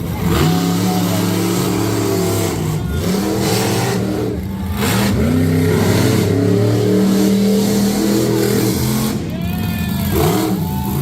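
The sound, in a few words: monster truck engines revving in a head-to-head race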